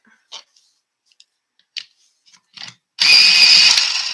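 A pencil sharpener starts up with a sudden loud, steady mechanical whir after a few faint clicks and taps in near silence, then keeps grinding to the end.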